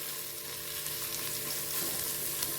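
Bhel ingredients stir-fry in hot oil in a pan, a dense steady sizzle with soft scraping of the stirring spoon, close and continuous with no voices.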